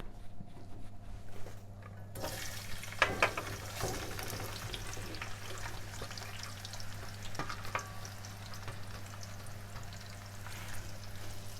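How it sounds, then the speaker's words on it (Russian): Chopped onion hits hot oil in a pan and a steady, loud sizzle starts, crackling on continuously with small pops and stirring noises. "Я сейчас быстро положу лук в масло."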